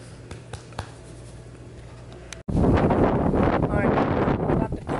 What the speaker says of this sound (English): It's a little windy today.